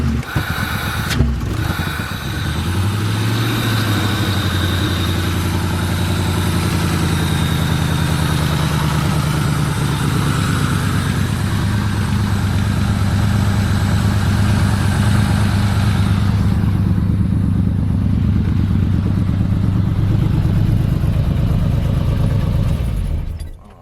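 A project vehicle's engine idles steadily and loudly for the whole stretch, a constant low rumble with no revving; the engine has no throttle response.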